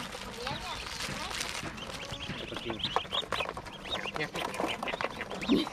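Ducks and chickens at a farm cluck and quack in scattered bursts, mixed with close background chatter and people talking throughout.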